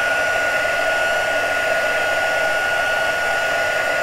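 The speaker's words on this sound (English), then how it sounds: "I'm just going to work my heat tool back and forwards" A heat tool blows hot air in a steady, loud, continuous whoosh with no pauses, moved back and forth at close range.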